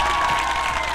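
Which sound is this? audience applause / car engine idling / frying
audience applause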